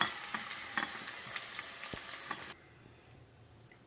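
Chicken pieces frying in hot oil in a home kitchen, a steady close sizzle with stirring clinks and scrapes that drops to a quieter low crackle partway through.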